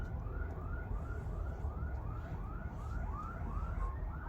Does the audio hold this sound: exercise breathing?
no